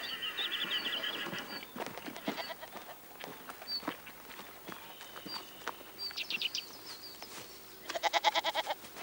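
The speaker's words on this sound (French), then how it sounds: "viens, on va voir les chèvres." Goats bleating on a farm, several short calls scattered across the scene at moderate distance, with faint clip-clop of hooves and a quiet rural background; no talk.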